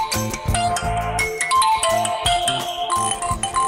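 Incoming-call ringtone on a mobile phone, a loud melodic electronic tune with repeating rhythmic phrases playing alone and close.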